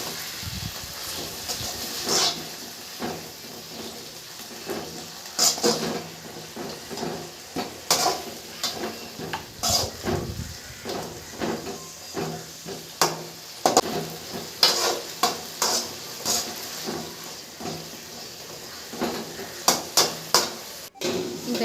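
Salted leafy greens being stirred in a pan while they cook: a continuous sizzle broken by repeated scraping stirs at an uneven rhythm, close and fairly loud throughout.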